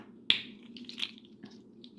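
A fidget slug toy, a segmented finger slug, snapping back together with one sharp close clack, then a few softer clicks and rattles as the pieces settle, all quiet and near.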